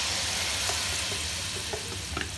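Spice paste hits hot butter in a pan while butter chicken is being made, a soft continuous sizzle with faint crackles and light stirring, fairly quiet and with no one talking.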